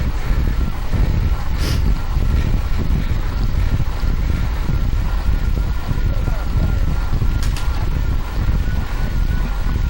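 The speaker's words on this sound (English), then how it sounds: "We're fighting the wind and we're up front." Steady loud wind roaring across the microphone while cycling into a headwind on the road from Reno to Verdi, continuous buffeting throughout with a faint voice mixed under the noise.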